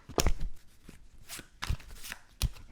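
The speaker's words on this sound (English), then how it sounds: "Oh, and I have to shuffle this card back into the deck." Cards from a Star Wars: Outer Rim board game deck being shuffled on a table, with a few quick riffling bursts and soft taps, close and fairly quiet with no talking.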